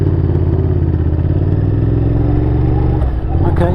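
A Honda CBR motorcycle riding alongside through town, its engine a loud, steady mid-pitched drone with a brief dip and slight rev near the end, heard close up over wind.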